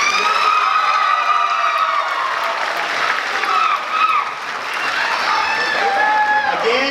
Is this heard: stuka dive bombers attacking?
no